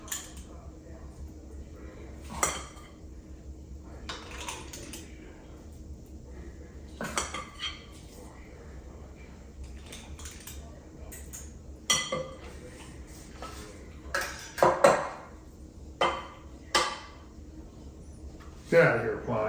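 Utensils clink and scrape against a bowl while fresh salmon croquette mixture is mashed, irregular metallic knocks spaced every second or two, with a person talking intermittently between them.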